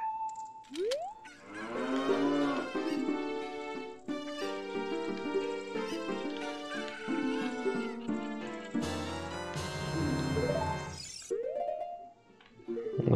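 A cow moos in the Zelda fan game Master of Time, with long, drawn-out tonal calls layered over game music and a sharp shattering burst near the start, loud and continuous throughout.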